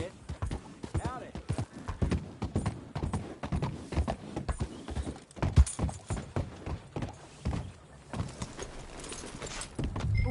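Horse hooves clip-clopping steadily in the video game Red Dead Redemption 2, a walking rhythm with creaks and jangling tack, while characters talk over it.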